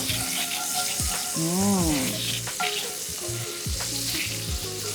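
Butter sizzles loudly in a pan after chicken has been fried in it, a continuous close crackle and spatter with some stirring, while soft music plays underneath.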